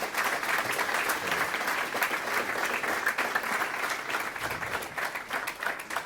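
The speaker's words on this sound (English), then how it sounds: "Can we get a round of applause for Robert," A live audience bursts into sustained applause, dense steady clapping from many hands that holds at an even, fairly loud level throughout with no talking over it.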